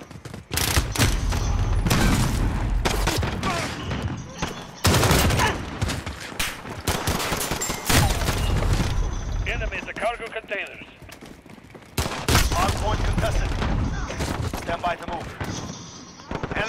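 Video game firefight with grenades: repeated heavy bursts of gunfire and booming blasts in rough clusters, loud and close, with brief lulls between them and voices talking over the action.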